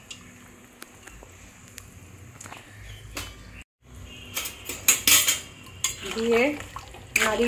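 A spoon scrapes and clinks against a pot as pumpkin green stems are stirred into a bubbling fish curry, with intermittent metallic knocks that grow louder and busier toward the end.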